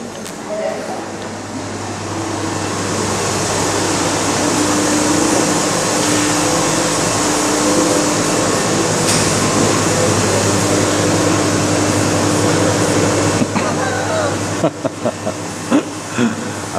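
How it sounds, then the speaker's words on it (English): A chocolate machine runs with a steady loud hiss and low mechanical hum, continuous throughout with a constant low drone, crowd murmur and faint voices in the background, and a few sharp clicks near the end. "Amazing chocolate machine."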